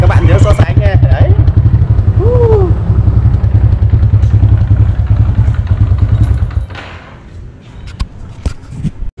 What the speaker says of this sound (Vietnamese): bây giờ mình sẽ thử độ xem là cái bô này nó kêu thế nào